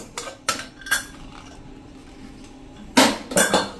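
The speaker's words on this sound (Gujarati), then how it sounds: "પ્રેશર પણ રિલીઝ થઈ ગયું છે. તો આપણે કુકર ખોલી લઈએ" A pressure cooker used for cooking moong is opened after its pressure is released, with sharp metallic clanks of the lid and utensils, three or four close knocks spaced across a quiet kitchen.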